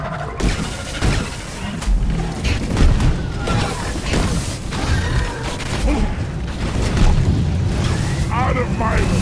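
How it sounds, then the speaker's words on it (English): Explosives detonate in the Deep Rock Galactic game amid loud, chaotic combat noise, booms and crashes layered under continuous in-game voices. "Explosives"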